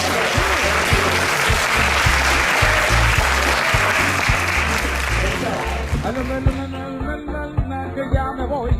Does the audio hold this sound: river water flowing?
no